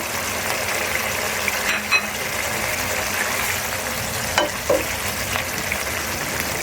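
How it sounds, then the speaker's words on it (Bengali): Fried singi fish sizzle steadily as they are spread into boiling water in a pan, a continuous crackling hiss with a couple of soft clinks, no voices. "পানিটা আমার বলক এসে গেছে। এখন ভেজে রাখা মাছগুলো সুন্দর করে ছড়িয়ে দিয়ে দিব।"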